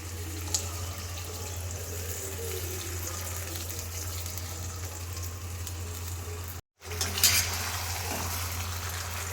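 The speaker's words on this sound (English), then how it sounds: "to get a desired consistency, I am going to add some water." Water runs and hisses steadily into a hot pan of paneer pepper masala, a continuous sizzling wash, broken by a brief cut before the sound resumes.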